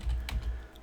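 Keys tapped on a computer keyboard at a command prompt, a few quick close clicks in a short burst with no talking.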